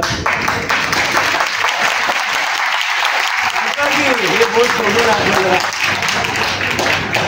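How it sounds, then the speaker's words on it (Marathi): A community conference audience in Jalgaon applauds steadily while a voice speaks over the clapping, which keeps a constant dense texture throughout. "तुमच्या सगळ्या टाळ्यांचा आवाज आणि माझ्या एकट्याच्या टाळ्यांचा आवाज बरं का"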